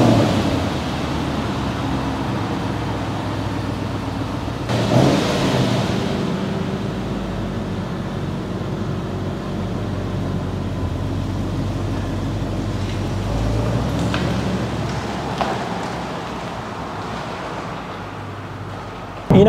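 A 2007-onward Range Rover cruises along a road, giving a steady low rumble of engine and tyre noise with a soft, even wash of road sound and occasional bumps.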